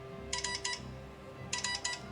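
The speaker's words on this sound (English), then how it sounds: "I'm getting a phone call." A phone ringtone in Honkai Star Rail plays as two bursts of rapid, bright chiming pulses, each about half a second long with a pause between, at moderate volume over a low steady hum.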